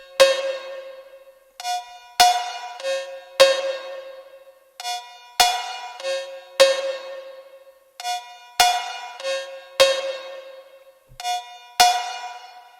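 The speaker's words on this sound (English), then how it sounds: "This high pitch cowbell sounds like this." Bright, high-pitched cowbell hits in a slow phonk beat pattern, sidechained with reverb, each strike ringing then pumping away. The pattern repeats in regular groups over about thirteen seconds, with no talking.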